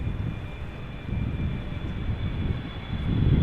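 Delta flight 144 at Amsterdam Schiphol Airport rumbles as a low, steady airplane drone with a faint high whine, heard from a distance and swelling slightly louder near the end, no voices.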